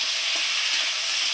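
Potato and drumstick stalks sizzle in hot oil with salt and turmeric, a loud, steady hiss of frying close by with no voices.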